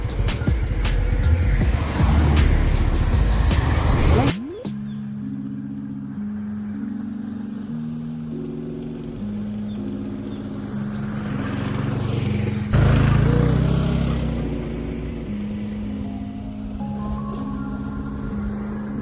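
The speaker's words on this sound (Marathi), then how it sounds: "तर गाडी स्टार्ट झालेली आहे" A car engine runs after being started on a road trip in the Konkan countryside, opening with a loud broad rumble before settling into a steady, close, humming drone with small shifts in pitch and no talking.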